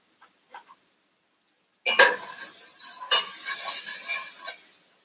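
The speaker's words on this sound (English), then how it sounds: "bit of butter into the pan and to begin to saute those onions" After a few faint taps, a utensil scrapes and stirs onions sauteing in butter in a pan over a soft sizzle, in two bursts of activity, close and moderately loud.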